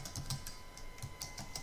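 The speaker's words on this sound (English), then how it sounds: "below that we will type Unique" Quick, light clicks from computer keyboard keys come in irregular bursts, close and faint, with no talking.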